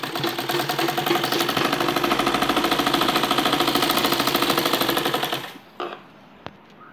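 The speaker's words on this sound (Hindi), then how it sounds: "ऊपर से सिलाई लगाएंगे।" A sewing machine stitches a folded strip of waste cloth for a baby frock in a fast, steady, close rattling run of about five seconds. It then winds down to stillness, followed by a single sharp click.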